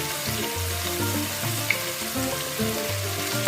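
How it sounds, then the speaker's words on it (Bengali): One large chopped onion sizzles steadily in a pan while a chicken roast is cooked, a constant close frying hiss with a few soft stirring clicks, and melodic background music runs throughout. "পেঁয়াজটাকে আমি একটু ভেজে নেব।"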